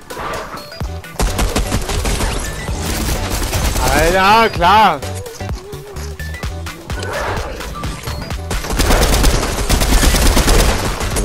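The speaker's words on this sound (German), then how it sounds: "Ein einziger Schuss geht rein." Repeated loud bursts of Fortnite gunfire crackle in quick volleys, with a voice briefly talking in the middle and heavy firing resuming toward the end.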